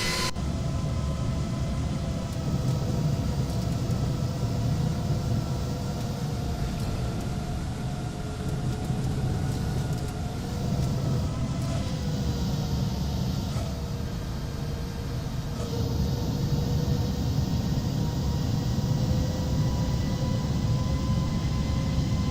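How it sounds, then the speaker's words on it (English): Simulated Airbus A330 in X-Plane 11 applying reverse thrust on landing: a steady, loud engine roar with a low rumble and shifting tonal whine that holds throughout, no voices. "The only thing was the reverse thrust"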